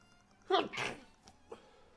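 A single sharp sneeze bursts out close by, a quick two-part explosive snort followed by faint soft trailing sounds in an otherwise quiet room.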